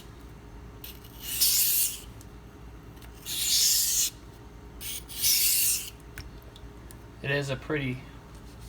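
A Spyderco Endura 4 Wharncliffe blade is drawn across a Pride Abrasives sharpening stone in three loud, even rasping strokes about a second and a half apart. Someone briefly speaks at the end.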